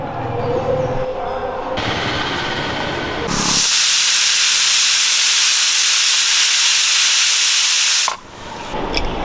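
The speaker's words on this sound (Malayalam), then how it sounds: "നമുക്ക് ഒരു നാല് വിസിൽ അടുപ്പിച്ചെടുക്കാം" A pressure cooker cooking chickpeas lets out one loud, sustained hissing whistle of steam lasting several seconds, then cuts off abruptly.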